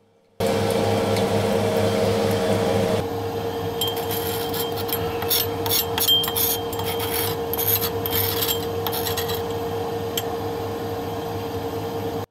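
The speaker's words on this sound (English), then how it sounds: "To filter by glass funnel and to collect the retained paste with a spatula." A metal spatula scrapes yellow paste against a glass funnel during a lab filtration, giving a steady rasping rub followed by rapid scratchy strokes and faint clinks, close and continuous with no talk.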